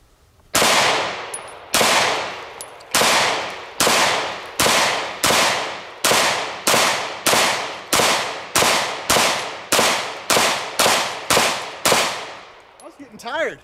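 Rapid string of sharp pistol shots from Taran Tactical Wicked 34 and Wicked 19 handguns, about fifteen loud cracks fired in a steady rhythm with short ringing decays, mostly alone with no talk.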